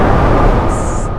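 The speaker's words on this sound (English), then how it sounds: "It's the sound of wind." Wind blowing outside, a steady broadband rush and rumble heard alone for a moment, fairly loud and continuous.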